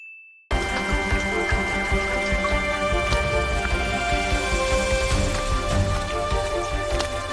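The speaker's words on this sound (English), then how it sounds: "That blurry type of very heavy rain looks fantastic" Heavy, blurry rain pours in the anime film Scarlet Bond, a dense, loud, continuous hiss that bursts in after a brief tone and keeps up with scattered patters and faint ringing, and no voices.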